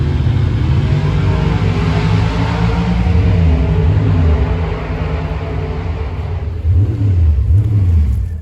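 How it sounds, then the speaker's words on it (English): Race car accelerating at Byron Dragway, a loud close engine roar climbing through revs with gear-change dips and rising tones toward the end. "¿quieres ver el carro ir racing?"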